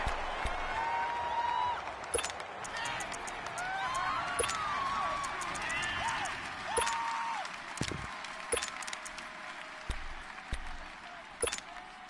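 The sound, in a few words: stadium crowd cheering in a PS4 football video game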